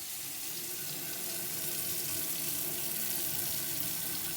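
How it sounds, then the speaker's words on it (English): Continuous hiss of water running from a faucet fed by a residential rainwater collection system, steady and close, with no other sounds. "Let's go test a faucet and I'll show you how the water works."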